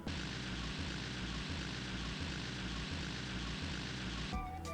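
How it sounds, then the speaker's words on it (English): Car engine drone from the PS2 driving game London Cab Challenge, a steady looping hum with a regular rhythmic pulse that repeats unchanged before cutting off near the end. "the engine noise just keeps playing infinitely, which is really annoying"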